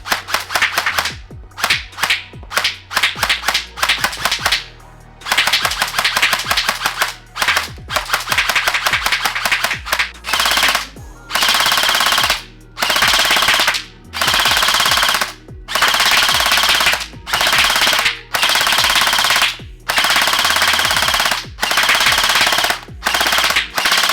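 An Emerbu AK74 gel blaster fires in long, rapid full-auto bursts, a dense loud mechanical chatter cut by short pauses between strings of shots, close to the shooter.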